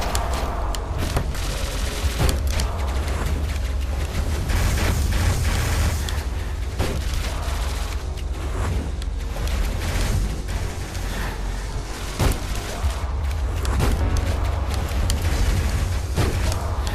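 Dense, continuous gunfire and booming blasts from a boss fight in the video game Hyper Light Drifter, loud and relentless with sharp repeated shots and impacts throughout, no voice over it.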